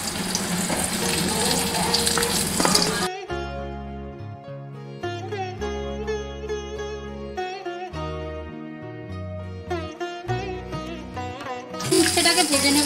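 Vegetables for dudh shukto fry in hot oil with a loud, steady sizzle that opens and closes the stretch, while soft instrumental music fills the long middle section.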